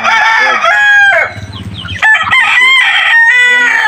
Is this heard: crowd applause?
no